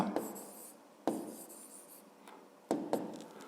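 A pen scratches out a math expression on paper in short, uneven bursts of scribbling, three distinct strokes separated by brief pauses, close and alone.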